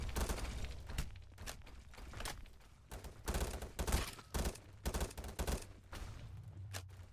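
Grenade explosions in a video game, several sharp blasts scattered irregularly with short gaps, some landing in quick clusters, fairly faint, with no one talking.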